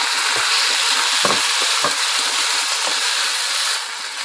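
A loud, continuous sizzle of tomatoes frying in a hot pan with fried garlic, with a few soft clinks and stirring scrapes, no talking.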